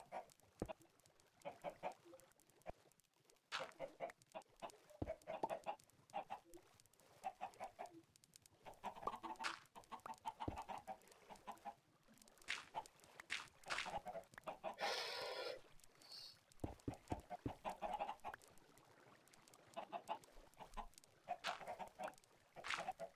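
Chickens cluck repeatedly in Minecraft 1.8.1 survival play, a steady series of short fowl calls and squawks scattered across the whole stretch alongside block-placing noises, with no talk.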